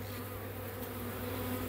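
A dense, steady hum of many honeybees buzzing close by at an opened hive in late winter, as they crowd the wax bridges, unbroken and with no voices.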